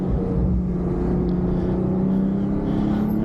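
A Porsche 911 Turbo S (992 generation) accelerating, a steady, fairly loud engine drone with a slowly rising tone heard from inside or close by, no talking.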